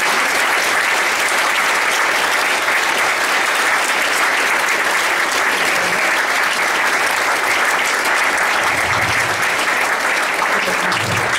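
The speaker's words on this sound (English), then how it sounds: "Please acknowledge and applaud our Hall of Famers." A large crowd applauds Hall of Famers at an awards event, with loud, continuous clapping that fills the room at full strength from start to finish.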